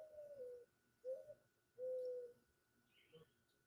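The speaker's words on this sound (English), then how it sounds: "if you hear doves and ducks in the background" Doves coo softly in the background outdoors, three low mellow calls spaced about a second apart, with a faint chirp from another bird near the end.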